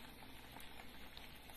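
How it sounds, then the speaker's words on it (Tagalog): A low, steady bubbling and hiss of a pot of vegetables boiling for pesang tilapia, faint and continuous throughout. "Ayan, kumukulo na po ang ating gulay."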